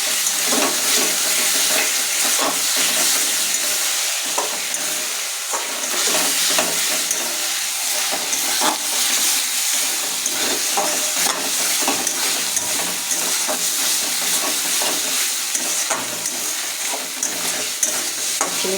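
Vegetables cooking with onion and garlic in a pan, stirred steadily throughout: a continuous close, loud sizzle with frequent scraping strokes and no talking.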